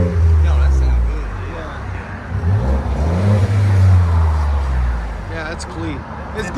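A 2020 Ford F-150 with the 3.5L EcoBoost V6 and a Gibson exhaust revs in deep, rumbling swells close by, while people talk over it throughout.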